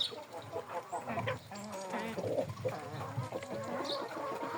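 A moulting drake calls softly at a distance, with chicken-like clucks from other fowl mixed in and a continuous murmur of farmyard sound behind them.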